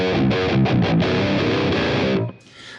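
Heavily distorted electric guitar through a Bogner Überschall amp model on a Fractal FM3, with loud chugging palm-muted chords and quick stops, ending in a brief ringing tail.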